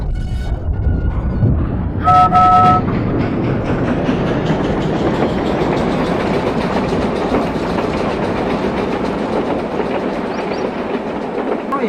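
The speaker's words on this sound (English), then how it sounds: "He shouted hurry up and whistled impatiently." A short, clear train whistle sounds once over the steady rumble and rattle of a moving train, which continues alone afterward.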